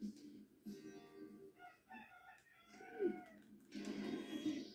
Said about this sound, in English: That's a rooster outside crowing.